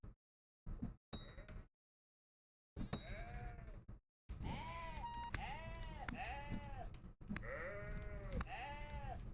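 Repeated wavering goat bleats sound in a Vintage Story survival game as the animal fights back, several long calls in a row after a few short clicks and gaps.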